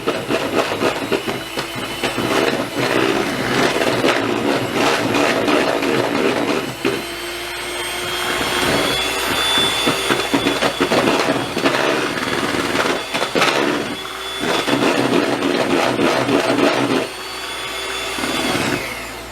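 A steady, loud electric mixer whirs and rattles continuously, whipping wax with a scraping, whipping texture that shifts slightly as the beaters move through the thick mixture.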